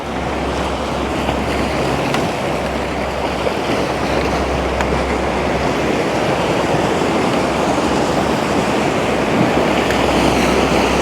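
Waves wash steadily over a stony beach at Mellieħa, Malta, a continuous loud roar of surf mixed with wind buffeting the microphone.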